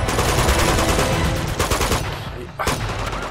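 Dense, rapid gunfire from the Uncharted 2 video game rattles loudly and continuously, with shots overlapping in heavy bursts and a brief dip before firing resumes.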